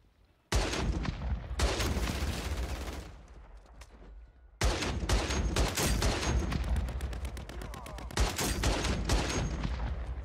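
RPK light machine gun fired in Warzone on Rebirth Island, loud sustained automatic bursts with rapid repeated shots, a short lull, then another long burst of steady rhythmic fire.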